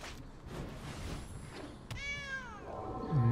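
A cat meows in the digital card game Magic The Gathering Arena, a single drawn-out, clear meow following a few soft game thumps, with no talking.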